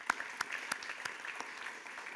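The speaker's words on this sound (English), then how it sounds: "a big round of applause for you 3" Audience applause for three award judges at an Australia Day awards ceremony, a moderate round of scattered clapping with a few sharper claps standing out, steady for about two seconds.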